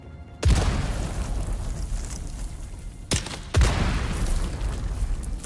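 Two heavy booming blasts from mines detonating after being shot in the video game Dune Awakening, the first near the start and the second about three seconds later, each followed by a rumbling decay with no talk.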